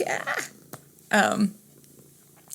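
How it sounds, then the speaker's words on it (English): A pet cat purring close by in a home, a soft rumbling hum that swells in two short bursts amid low background noise. "my kitty, is getting more and more rambunctious the more I talk"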